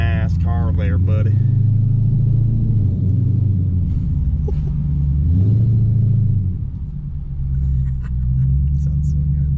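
Infiniti Q45 V8 fitted with Nissan Titan headers, rumbling loud and close from a moving car, its deep exhaust note rising and falling, with a voice speaking briefly at the start.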